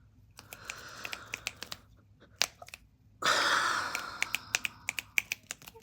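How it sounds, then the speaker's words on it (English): Finger snaps for relaxation, crisp single clicks close to the ear in a loose irregular rhythm, sparse at first, then repeating more quickly over a soft breathy hiss that swells and continues. "I'm gonna do finger snaps this time with it."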